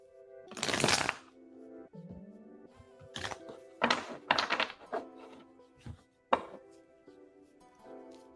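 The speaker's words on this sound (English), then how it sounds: "I'm going to shuffle for your second question" Tarot cards being shuffled by hand, several separate crisp riffling bursts and soft slaps spaced across the quiet, close and alone.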